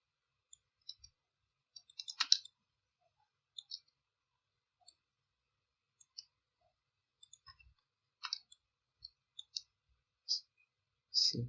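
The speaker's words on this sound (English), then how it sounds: "I'm just clicking and dragging." Sparse, sharp computer mouse clicks, single and in quick pairs, spread irregularly over quiet background while clicking and dragging in Photoshop, close and crisp.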